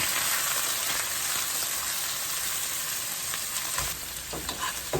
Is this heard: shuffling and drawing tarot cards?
no